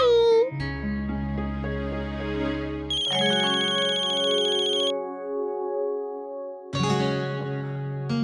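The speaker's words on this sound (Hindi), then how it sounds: "माँ वो शौर्य की माँ का फोन है" A mobile phone's melodic ringtone plays loudly and close in a home, bright sustained notes shifting in pitch across several phrases before the tune begins again.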